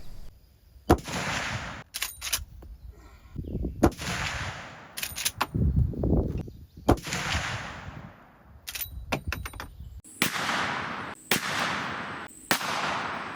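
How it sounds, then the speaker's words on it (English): Rifle shots from a 45-70 firing Remington Core-Lokt 405 grain full pressure loads into ballistics gel, several sharp loud cracks spaced apart with echoing tails, some as slowed-down playback. "So let's go ahead and shoot it."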